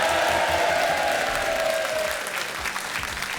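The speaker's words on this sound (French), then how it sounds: "Applaudissements!" Studio audience at a French TV game show breaks into loud, sustained applause, dense and steady before easing slightly toward the end.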